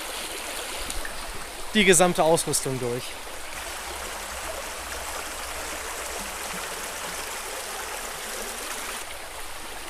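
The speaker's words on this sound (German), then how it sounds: "Ich bin jetzt hier an einem der örtlichen Flüsse" A local river near a cave rushes with a steady, even flow throughout. Someone speaks briefly near the start over the water.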